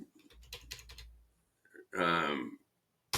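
A computer mouse clicks, giving a few quick, quiet clicks, and a voice speaks in short bursts between the clicks.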